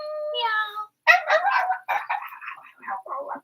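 A person mimics a cat with a brief nasal meow, then a longer run of high, warbling meow-like cries and yowls, close and clear against silence.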